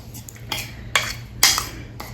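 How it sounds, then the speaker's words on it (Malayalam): A spoon clinks and scrapes against a bowl while face pack ingredients are mixed with aloe vera gel, in several quick, bright strokes of varying loudness, close up and with no speech. "അപ്പോൾ ഇത് 3 കൂടെ നന്നായിട്ട് മിക്സ് ചെയ്യാം."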